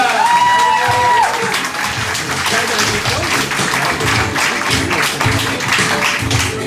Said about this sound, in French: Commencé à applaudir pour Cyril Hines.